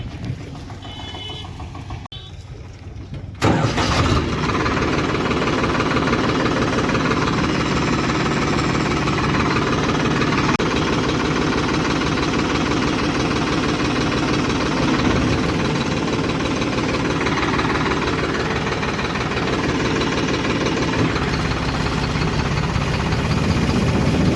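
An Eicher power-steering tractor engine runs a reaper, a loud steady mechanical drone with knocking vibration that starts abruptly after a quieter opening few seconds and holds close and constant to the end.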